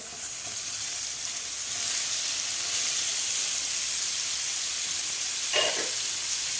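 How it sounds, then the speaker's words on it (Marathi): Paneer pieces sizzle steadily in hot oil in a pan, a continuous close frying hiss with a brief louder spatter near the end. "तेल आपलं गरम झालेलं आहे तर यामध्ये आपल्याला हे पनीरचे पीस घालायचे आहेत"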